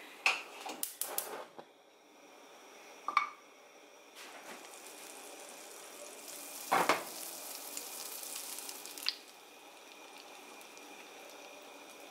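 Butter sizzles in a hot frying pan while pancakes cook, a soft continuous crackle with a few utensil clinks and scrapes early on and a louder burst midway.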